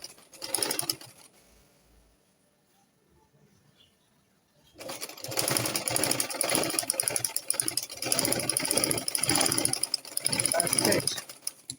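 A sewing machine runs steadily, stitching the neckline seam of a garment made with skin illusion net, a dense mechanical whir that starts after a quiet pause with soft handling sounds.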